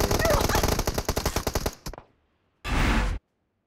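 Rapid automatic gunfire from a glitch gun in a team deathmatch video game, a fast rattling burst of about twenty shots that stops abruptly, followed after a short silence by a half-second noisy blast; loud and close.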